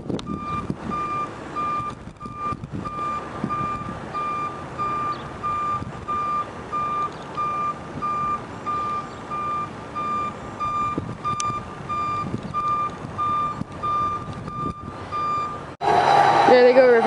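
A BNSF hi-rail truck reversing along railway track sounds a loud, regular backup beeper pulsing steadily for many seconds, with engine noise beneath and a brief louder burst of sound near the end.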